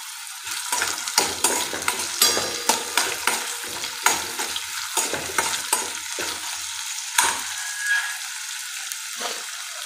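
Onion, capsicum and green chilli sauté in a pan for dry cabbage manchurian: a spatula scrapes and stirs in a quick, regular rhythm over a light sizzle, close by, with no voices.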